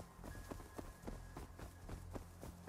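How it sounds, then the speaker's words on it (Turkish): Quick, even footsteps in the survival game Rust, roughly a dozen soft thuds in a brisk running rhythm, faint and close, with no speech over them. "Fazla ayak sesi var oyunda."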